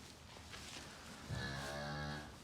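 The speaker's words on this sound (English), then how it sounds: "A regular British Friesian cow." A British Friesian cow that has just calved gives one loud, close, drawn-out moo, starting after a moment of quiet barn background.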